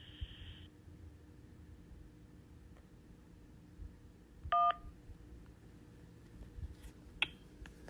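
A single telephone keypad DTMF tone sounds briefly after a Humana automated phone menu prompt, clear and sharp over a quiet line hiss, followed by faint clicks.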